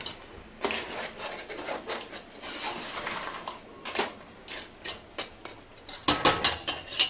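Water being stirred in a cooking pot while making crab biryani, heard as scraping, clinking utensil strokes against metal, irregular and close, growing sharper and more clattery toward the end, with no talking.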